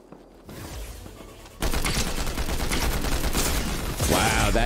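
Rapid gunfire in the Fortnite video game, a sustained loud fusillade of shots that starts softer then jumps in intensity, continuing dense and unbroken to the end.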